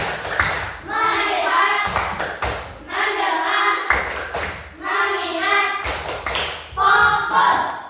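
A class of children does a rhythmic clap-and-chant focus routine in a coding and artificial intelligence lesson. Sharp group claps land in short bursts between stretches of children chanting together, repeating in a regular pattern.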